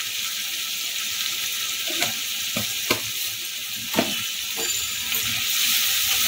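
Spices sizzling and being stirred in a pan for Bengali niramish paneer kosha, a steady frying hiss broken by a few scraping strokes of the spoon, close up with no talk.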